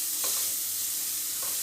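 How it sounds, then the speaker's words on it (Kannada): Chopped fenugreek leaves fry in a pan while being stirred, giving a steady soft sizzle with a couple of brief scraping strokes of the spatula, close and alone. "ಹಸಿ ಘಮ ಹೋಗೋರ್ಗು ಈ ಥರ ಹುರಿತಾ ಇರಬೇಕು."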